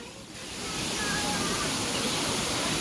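Waterfalls in Kowloon Park, Hong Kong, give a broad, steady rush of falling water that swells slightly in the first second and then holds level, continuous and fairly close.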